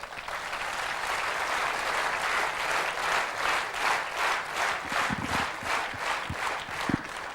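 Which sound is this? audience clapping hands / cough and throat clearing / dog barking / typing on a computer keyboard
audience clapping hands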